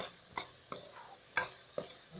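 A spoon stirs tomatoes and green peas in a pan, with four or five distinct clinks and scrapes at an uneven pace over a faint sizzle and no talking.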